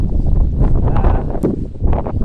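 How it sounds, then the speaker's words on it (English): Strong wind rumbles and buffets the microphone continuously in a garden on a cool May morning, a loud, blustery roar with no talking. "It's really a windy, cool morning."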